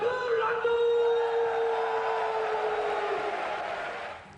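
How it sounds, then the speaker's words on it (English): A Japanese crowd fills an arena before a wrestling bout, a broad murmur of many voices with a sustained cheer or call rising early and slowly fading. "An electric atmosphere with this Japanese crowd looking forward to a very exciting fight tonight."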